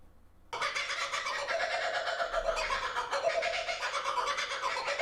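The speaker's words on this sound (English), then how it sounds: "I get this sound. How do you spell it? Kookaburra." A kookaburra calls loudly and close, bursting in after a brief near-silence and keeping up a dense run of harsh, cackling notes.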